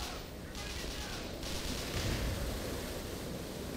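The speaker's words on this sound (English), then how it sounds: "And the fire extinguisher is coming on, it looks like." A fire extinguisher sprays in the Black Mesa game, a steady broad hissing rush that holds loud and unbroken from start to finish.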